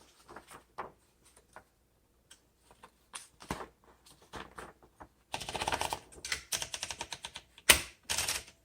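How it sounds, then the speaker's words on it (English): Clacking keystrokes of a 1974 Smith Corona Galaxie 12 manual typewriter, sparse and hesitant at first, then fast bursts, with a sharp bell-like strike near the end, close up. "Okay, let's go ahead and do some typing."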